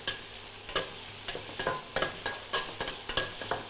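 Onion sautéing in a hot pan, stirred in a steady rhythm of repeated scraping strokes over a constant sizzle, close and clear with no talking.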